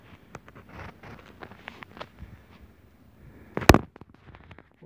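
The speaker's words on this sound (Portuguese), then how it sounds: "Eu efetuando os disparos ali." A Miura II 20 gauge shotgun fired outdoors, one sharp, loud blast that stands out clearly after a few seconds of faint handling clicks and light rustling.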